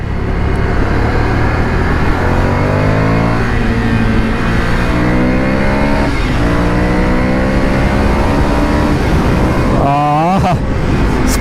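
A Ducati motorcycle accelerates hard on an open highway, its engine loud and close, rising through several gear changes with a steady roaring drone and brief dips between shifts.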